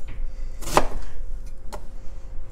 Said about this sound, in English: I'll just slice it up. And here I have my onions.